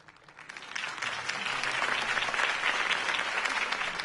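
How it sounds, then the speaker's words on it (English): Steady applause from a sizable crowd, starting softer and swelling to a full, sustained clapping that carries through to the end. "could have heard that applause"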